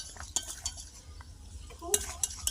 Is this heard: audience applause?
no